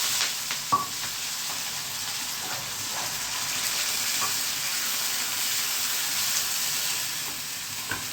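Curry leaves and asafoetida sizzle in hot oil for tempering potato curry, a steady close frying hiss throughout with a few small pops and stirring clicks.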